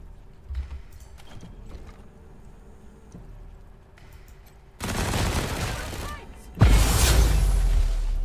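Turret gunfire in Wasteland 3 comes in two loud bursts of rapid shots, each cutting in abruptly after a stretch of quiet, low ambient game sound.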